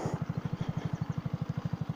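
A motorcycle engine idles nearby with a steady, low, pulsing putter, evenly repeating beats and no voices.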